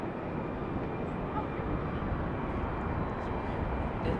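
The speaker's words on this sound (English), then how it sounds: "That was American Airlines flight 2343, Boeing 737-800 from LAX" American Airlines Boeing 737-800 at Raleigh-Durham airport: a dense, continuous jet engine roar, fairly quiet and distant, steady with no clear rise or fall, and faint voices in the background.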